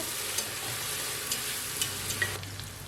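Sliced onions and ginger-garlic paste frying in a pan for a white kushka, a close, steady sizzle broken by several soft stirring taps, with no talking.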